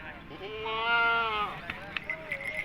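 A goat lets out one long, wavering bleat up close, followed by fainter bleats and chatter at a goat market in the background.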